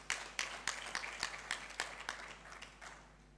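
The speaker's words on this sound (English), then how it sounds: "Let's give them a round of applause" Sparse audience applause at a launch event, a small group clapping with distinct, irregular sharp claps that slowly thin out, faint and somewhat distant in a large room.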